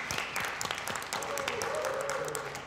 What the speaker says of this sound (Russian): Поэтому давайте похлопаем.